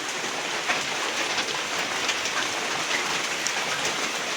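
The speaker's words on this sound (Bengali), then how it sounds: "এই যে দেখো কেমন বৃষ্টি পড়তেছে" Heavy rain falls at night outside a home with a verandah, a dense, steady wash of hiss that stays even and unbroken throughout, with no voices.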